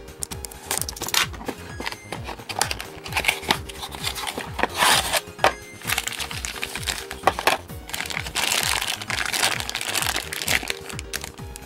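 A TV-kun magazine bonus toy package with Super Sentai and Kamen Rider full bottles being opened: close, continuous crinkling and rustling of plastic and paper with sharp tearing snaps, alone without talk.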